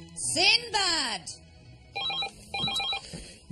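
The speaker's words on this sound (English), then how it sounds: "The phone's ringing." A telephone bell rings indoors in two short trilling bursts, following a loud shouting voice and standing fairly close in the room.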